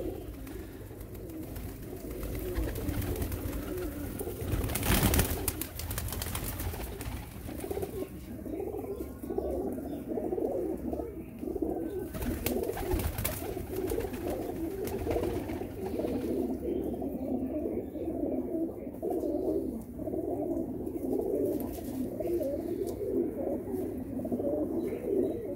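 Teddy golden pigeons on a rooftop coo in continuous, overlapping rolling calls at close range, with occasional sharp knocks and rustles mixed in.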